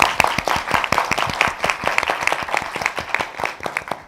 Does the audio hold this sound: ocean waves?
no